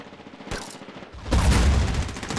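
Video game gunfire rings out close and loud: a short shot, then a dense, heavy volley of rapid rounds with a deep booming low end, and no talk over it.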